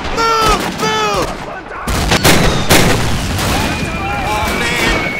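Battle scene with gunfire and artillery blasts in a World War II Battle of the Bulge setting, dense loud booms and shots running throughout under shouted voices and whistling tones.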